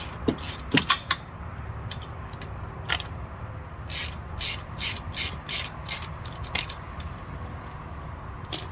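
A ratchet clicks in quick bursts while loosening a fitting on a Delta pressure washer left in storage for five years, with short repeated pawl runs under a steady low background hum.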